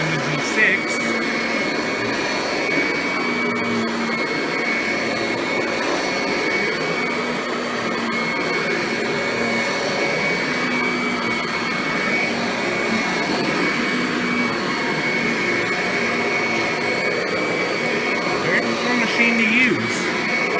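A newer Kirby Ultimate G Diamond Edition vacuum cleaner runs continuously with a steady, loud motor whine and airy rush that holds an even level throughout.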